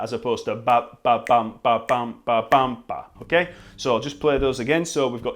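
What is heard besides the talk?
No distinct noise like a dog, phone or traffic.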